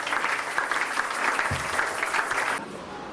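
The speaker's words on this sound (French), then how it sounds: "Acclamez très fort le Seigneur." Congregation applauding in a church, dense and sustained clapping from many people that fills the room, holding steady before tapering off abruptly near the end.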